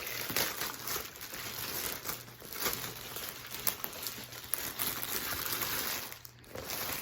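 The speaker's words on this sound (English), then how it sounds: "So let me get it out of the plastic." Thrifted clothing pulled from a plastic bag, loud close crinkling and rustling of plastic going on steadily with a brief pause near the end, no talk.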